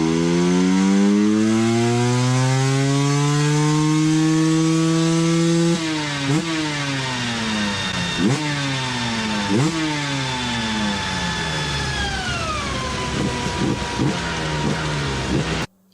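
A KTM 300 EXC TPI two-stroke motorcycle engine fitted with a DEP exhaust, held at a loud sustained rev, then repeatedly blipped up and falling back, and finally settling to a steadier drone, close and alone with no talking.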